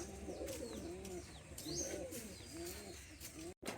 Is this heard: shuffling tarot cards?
no